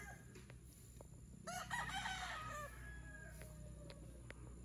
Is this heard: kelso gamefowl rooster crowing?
yes